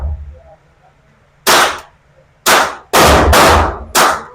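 Rapid .22 LR rifle shots at a shooting range, five loud close cracks in quick succession, the last four nearly back to back, with no talking.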